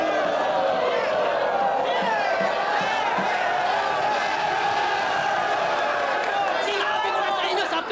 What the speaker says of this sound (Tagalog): Grabe yung reaction ng crowd kay Oza.